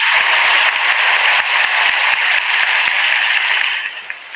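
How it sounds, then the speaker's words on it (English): Loud, dense audience applause on a talk show, many hands clapping steadily together before it tapers off toward the end. "Let's give you a round of applause"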